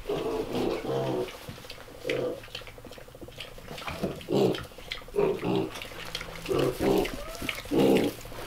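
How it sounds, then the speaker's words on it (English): Idaho pasture pigs in a barn give short grunting bursts at irregular intervals, close by, with quiet rustling between them and no speech. "So for those of you wondering what breed these are Idaho pasture pigs."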